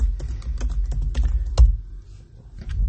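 Typing on a computer keyboard, with quick, irregular clicks and taps close up, a short pause midway, then a few more keystrokes.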